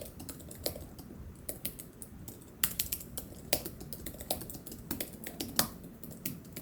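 Close, crisp keystrokes typed on the keyboard of a Robo & Kala 2-in-1 laptop, an irregular patter of light clicks with a few sharper taps, steady for several seconds with no voices.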